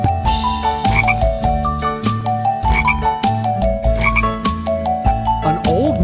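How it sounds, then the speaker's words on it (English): In a children's nursery rhyme song, a cartoon frog croaks loudly over a bouncy tune, the croaks repeating in time with the music. "Hello, Mr. Frog."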